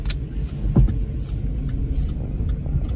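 A non-turbo Volkswagen 1.6 drives and turns around, giving a continuous low cabin rumble with a soft thump near the start.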